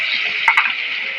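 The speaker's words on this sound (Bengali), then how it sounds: "তেলের মধ্যে আদাটাকে আমি নাড়িয়ে দেবো ভালো করে" Ginger paste, mixed with cumin and coriander powder, sizzles loudly in hot oil, a close, steady hiss broken by two quick scraping stirs.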